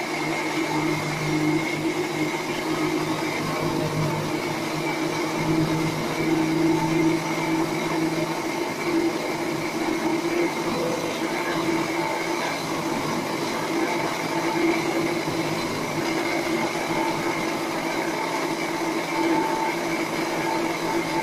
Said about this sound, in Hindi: मिक्सर ग्राइंडर की ज़रूरत पड़ेगी और एक जार की।